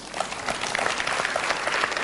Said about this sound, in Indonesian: Tepuk tangan untuk pilihan Anda.